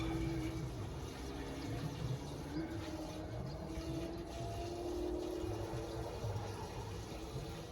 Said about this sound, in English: Man pours diesel into fuel tank.